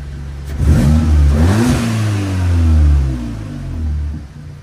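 A Seat Leon Cupra MK3 engine with a ram air intake and turbo elbow revs up and down a few times, bonnet closed, with a deep throaty roar and audible intake whoosh, close and fairly loud with no talking.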